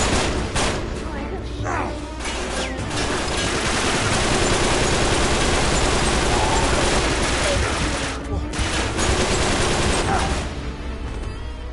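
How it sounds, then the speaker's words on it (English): Enemy gunfire in the video game Uncharted: dense, continuous rattling volleys and bursts, loud and close throughout, with a brief lull partway through and voices talking over the shooting. "you have like people shooting at you from all freaking angles"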